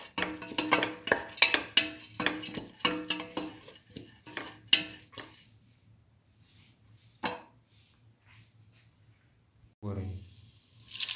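Sautéing split mung bean mixture in a pan: a quick run of spatula scrapes and clacks against the pan that thins out and goes quiet, with a short voice near the end.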